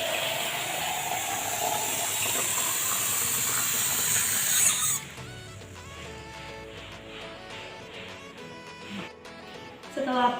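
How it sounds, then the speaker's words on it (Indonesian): Tap water pouring into a container until it reaches 500 ml, a loud, steady rushing stream lasting about five seconds that cuts off abruptly, followed by quieter room sounds and a few knocks. "itu kita tunggu air mencapai 500 ml. Setelah mencapai 500 ml kita matikan keran dan stopwatch secara bersamaan."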